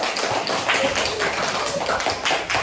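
Hands clap in a classroom of young children, broadband percussive bursts recurring through noisy room ambience, several claps blending together, with faint voices in the background.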